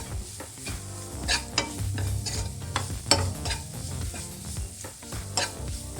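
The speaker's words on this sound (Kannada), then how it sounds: "ಇದನ್ನು ಸ್ವಲ್ಪ ಎಣ್ಣೆಲಿ ಬಾಡಿಸ್ಕೊಳ್ಳೋಣ" Carrots being stirred and sautéed in oil in a pan, a continuous close sizzle with busy rhythmic scraping and clinking of a spatula throughout.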